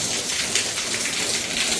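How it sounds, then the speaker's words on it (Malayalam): A light drizzle patters steadily on surfaces around a Kerala house with a central courtyard under construction, a soft continuous hiss with no talk. "ഇപ്പോൾ ഒരു ചെറിയൊരു ചാറ്റൽ മഴ പെയ്തുകൊണ്ടിരിക്കുന്നുണ്ട്"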